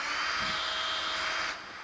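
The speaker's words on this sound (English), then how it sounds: "Hit your drill motor" An electric drill motor spins zip ties inside a bag of wall texture spray, giving a steady high-pitched whine for over a second before it cuts off abruptly and leaves a faint residual hum.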